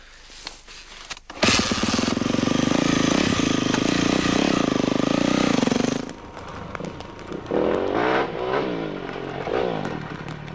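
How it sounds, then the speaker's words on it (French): A Yamaha 400 YZF four-stroke enduro motorcycle starts off and rides away, engine loud and close with a steady roar, then easing off and revving up again through gear changes as it recedes. "Je pars maintenant avec la nouvelle 400 YZF 4 temps."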